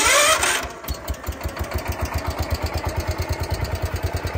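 John Deere 120 lawn tractor engine cranks over briefly, then catches and settles into a steady, rhythmic idle with even low pulses, close and fairly loud, with no talking.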